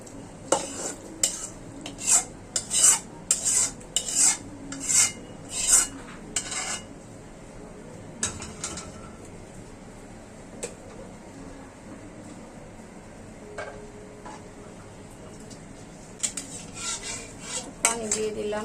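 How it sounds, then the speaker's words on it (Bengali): A metal spoon scrapes and clanks against a pot as cooked beef is stirred into khichuri, a run of sharp rhythmic scraping strokes at first, then sparser knocks over quiet sizzling. "যেমন মাংসটি হয়ে গেছে, এখন আমি খিচুড়িতে ঢেলে দিব"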